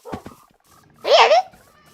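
Several dogs at a home visit give a short whining yelp with a rising, wavering pitch, fairly close, after a brief burst of speech, with quiet background sounds around it.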